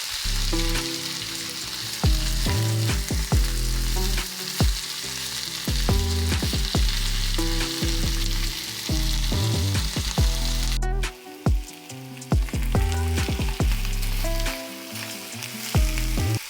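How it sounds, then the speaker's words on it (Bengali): Potato and taro chunks fry with spices in a pan, a steady loud sizzle broken by repeated scraping and stirring knocks throughout. "আলু আর কচু হালকাভাবে নেড়ে নিয়ে মশলাগুলো অ্যাড করব"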